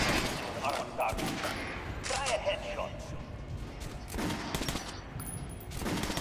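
Gunfire from Metro Last Light in a shooting-range test against an armored dummy: a few bursts of weapon fire and impacts spread across the clip, over steady game background noise, with no talk.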